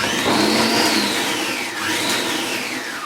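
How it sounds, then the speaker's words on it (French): An Oskar food processor pulses through a vinaigrette, its motor whining up and down in loud rising and falling sweeps over a steady whir, with no talking. "Mettez votre couvercle en place et mélangez avec la touche pulse."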